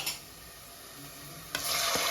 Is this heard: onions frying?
yes